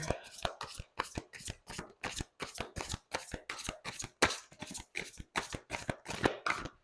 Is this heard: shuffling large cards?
yes